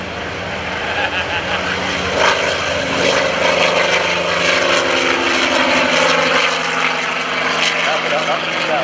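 An R-3350 piston aircraft engine making about 3,000 horsepower roars at full takeoff power at an airshow, a loud, steady droning rumble with pulsing propeller tones, rising slightly as it passes close by.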